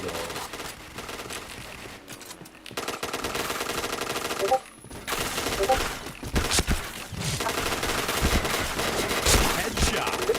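Rapid automatic gunfire in the online shooter Point Blank, dense bursts of shots that come in waves with brief gaps, loud and close, mixed with game sound effects and some voices in the background.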